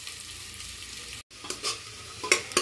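Onions fry in hot oil in a pan for mushroom biryani, a steady close sizzle broken by a brief silence, then stirring scrapes and clinks over the continuing hiss.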